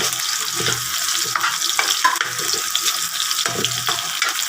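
Garlic fries in a pan for chicken adobo, with a steady crackling sizzle broken by stirring scrapes and occasional clinks.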